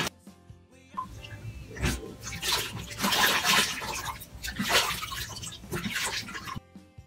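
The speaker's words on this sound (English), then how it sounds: "now to rinse" Water splashing as a face is rinsed after a Garnier Moisture Bomb face mask, with close, irregular splashes and drips rising and falling for several seconds before stopping abruptly.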